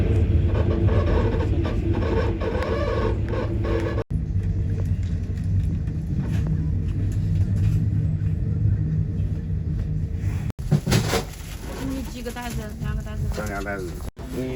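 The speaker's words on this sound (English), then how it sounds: "the train crosses the Wuhan Yangtze River Bridge" A loud, steady rumble of a train rolling across the Wuhan Yangtze River Bridge, with rattling and a brief squealing clatter near the end.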